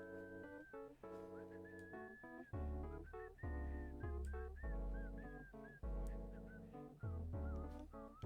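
Deadpool whistles a bright, gliding melody in the Marvel Rivals video game, carried over steady, loud backing music with punchy low beats throughout.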